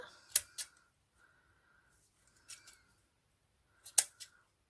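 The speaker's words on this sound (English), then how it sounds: "We're just going to trim that just a little bit." Scissors trimming ribbon for a hair bow, three pairs of crisp close snips spaced across a few seconds, with a faint whirring hum between them and otherwise quiet.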